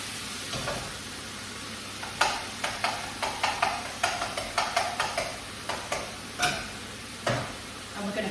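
Lean bacon with the fat stripped off sizzles in a pan under a steady hiss, while a utensil stirs and taps with repeated quick scraping knocks close by.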